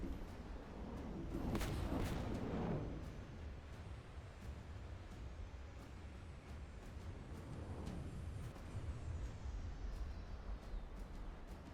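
Medium missiles launch in the naval combat game From the Depths as a faint, rumbling roar. A broad whooshing swell peaks early and is followed by a quieter, steady, distant-sounding rush.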